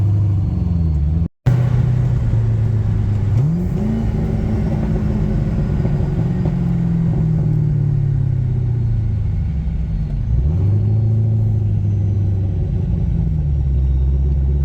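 Twin turbo Corvette Z06 being driven, a low steady engine rumble heard from inside with smooth rises and falls in pitch as it accelerates and eases off, loud and continuous with no talking.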